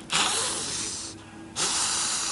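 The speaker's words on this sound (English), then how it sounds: "They make a great range of sounds, barn owls. Everything's from high-pitched squeals through all of those hisses." Barn owl on eggs at a nest on a reserve giving loud, breathy hisses, two sustained bursts separated by a short quieter gap, close and alone with no talk.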